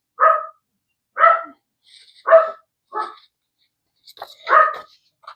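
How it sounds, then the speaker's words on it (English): A dog barks indoors at home, close by, as someone sits doing paper crafts: five or six sharp, separate barks spaced about a second apart, with short quiet gaps between them. "I don't know what he's barking at again."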